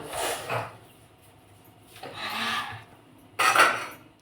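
A tea pot is handled in a home kitchen, giving close clattering and scraping of metal cookware in three short bursts separated by quiet pauses.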